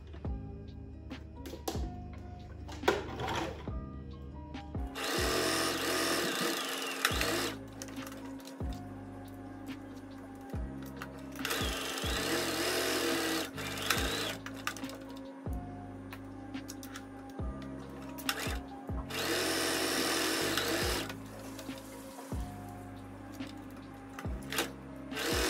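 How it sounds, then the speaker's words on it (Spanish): A sewing machine stitches darts on a blouse piece, running in repeated close bursts of rapid mechanical whirring and clatter, with brief pauses between runs. "procedo a iniciar la costura"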